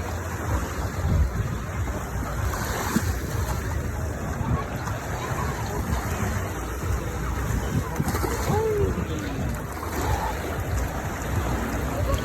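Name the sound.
sea waves at the shore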